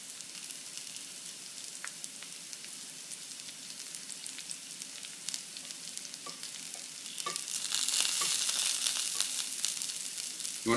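Wild mushrooms fry hard in a hot pan, a steady dense sizzle with occasional spatters, growing louder and crackling more sharply toward the end.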